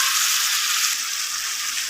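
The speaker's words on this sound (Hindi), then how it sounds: "अदरक लहसुन के पेस्ट को मैंने 2 से 3 मिनट के लिए अच्छा सा फ्राई किया है" Ginger garlic paste frying in a pan for chicken karahi: a continuous bright hiss of oil sizzling, close and steady with no voices.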